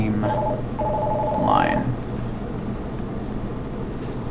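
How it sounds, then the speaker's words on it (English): A telephone rings with a couple of electronic trilling tones near the start, followed by a sliding tone, while a person keeps talking over a steady low room hum. "Disregard the phone call."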